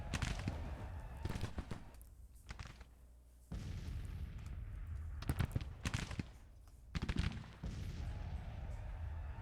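Cannon fire booms across a Grand Tactician battlefield, heavy blasts recurring at irregular intervals over a steady rumbling background, some close and loud, others more distant.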